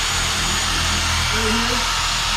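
An oscillating polishing machine spins steadily in a continuous close-up whir with a faint rhythmic wobble, while someone talks over it.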